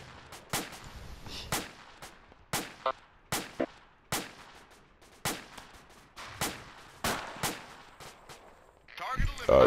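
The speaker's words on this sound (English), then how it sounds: "Salvo incoming" Repeated artillery salvo explosions in ArmA 2, a dozen or so sharp booms spaced about every half second to second, each with a short rumbling tail, fairly loud and close, ending in a denser noisy burst.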